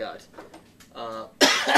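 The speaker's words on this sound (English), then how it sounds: "I got a cough" A single harsh cough bursts out loudly at the end, following a few moments of quiet speech.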